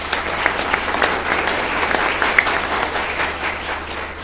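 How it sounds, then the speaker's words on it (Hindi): Loud, sustained applause from a crowd fills the room at a 31 October special-day gathering, steady and dense throughout. "तो आइए हम एक बार मिलकर सबके लिए एक जोरदार ताली द्वारा"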